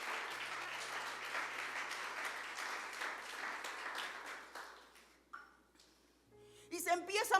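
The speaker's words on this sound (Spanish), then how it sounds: "Dale un fuerte aplauso al Señor" Applause from a church congregation fills the first five seconds as a broad, steady clapping wash, then drops away into quieter room sound and brief voices near the end.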